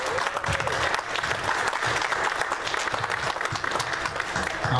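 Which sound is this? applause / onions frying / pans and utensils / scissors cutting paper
applause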